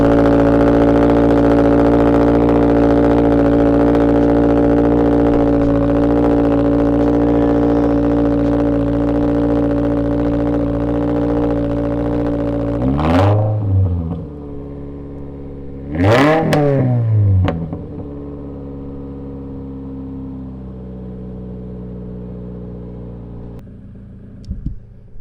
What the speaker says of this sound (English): The idle's really good. Just the cold start is pretty dang loud.